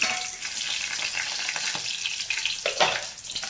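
Whole spices such as bay leaf and a small piece of cinnamon frying in hot oil in a pan, a steady close sizzle and crackle with brief louder spits near the end, no voices.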